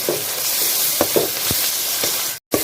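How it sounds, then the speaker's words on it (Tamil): Onions with ginger garlic paste sauté in a hot pan, a steady frying sizzle broken by several brief scraping stirs of a spatula. "நல்லா வதக்கி விடுங்க."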